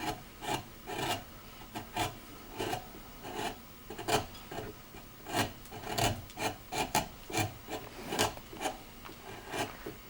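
A hand gouge cuts texture into wood on a carved Santa hat band: crisp, close scraping strokes repeating in an even rhythm, each a short rasp, with no talk.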